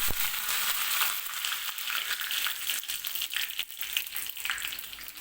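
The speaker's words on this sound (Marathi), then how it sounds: "तर तेल गरम झालेलं आहे मी गॅस बंद करून घेते आणि मोहरी टाकून घेते कढीपत्त्याची पानं" Mustard seeds and curry leaves crackle and sizzle in hot oil in a pan just after the gas is turned off, a dense close-up frying hiss with scattered sharp pops throughout.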